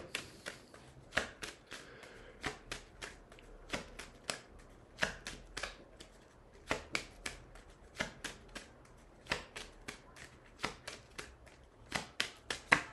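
Tarot de Marseille cards are shuffled by hand in a quiet room, a long series of soft, quick riffling and slapping bursts repeating at an irregular pace, close and fairly faint, with no voices.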